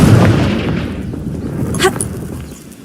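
A Confringo fire-blast spell cast in Hogwarts Legacy goes off as a loud booming burst that decays over a couple of seconds, with a sharp crackle near the end.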